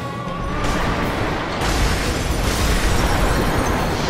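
A large explosion attack from Sif in the Dark Souls video game, a loud sustained roaring blast with crackling debris that swells in two waves and fills the whole clip with no talk.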